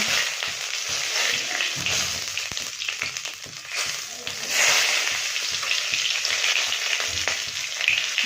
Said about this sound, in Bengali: এবারে সাদা জিরে ফোড়ন দিয়ে দেব সাদা জিরে দুটো তেজপাতা